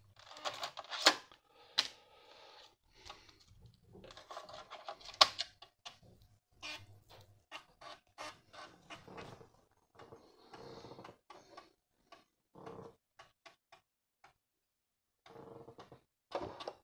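An Amiga floppy disk drive reading a Workbench 3.0 disk, giving irregular mechanical clicks, clunks and rapid ticking bursts with short pauses between them, close and fairly quiet.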